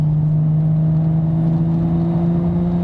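A 620 bhp single-turbo Nissan Skyline R32 GT-R runs at full throttle from about 3,000 rpm, a loud steady engine drone with a strong low hum filling the cabin, with no rise and no break across the short stretch.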